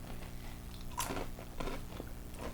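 Close crunching and chewing of crispy Korean snacks, with a sharp bite just after the start followed by several crackling chews over a low background hum, no speech.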